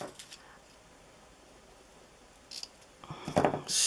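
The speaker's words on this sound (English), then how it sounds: "I'm going to cut enough off" Black ribbon cut with scissors, a quiet pause followed by a brief snip and then a louder, close crunching cut near the end.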